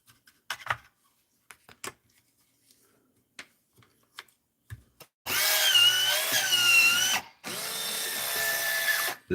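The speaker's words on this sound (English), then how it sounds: "the sound of my cigarette machine" A hand-cranked or electric cigarette-making machine runs in two loud, steady bursts of whirring with a brief gap between them, after a stretch of scattered quiet clicks and taps.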